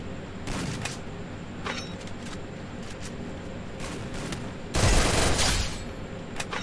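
Rapid bursts of MP40 submachine gun fire in the Free Fire video game, several short close volleys and then a louder sustained burst near the end.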